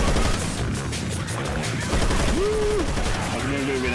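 Dense gunfire rattles through a Left 4 Dead 2 round on a Mario-themed map, shots overlapping in a steady loud barrage with players talking over it.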